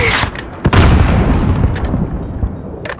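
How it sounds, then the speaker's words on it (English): Booming mortar and gunfire in Call of Duty: Modern Warfare, a loud close blast followed by rumbling and scattered sharp shots in the distance. "There's still a mortar out there."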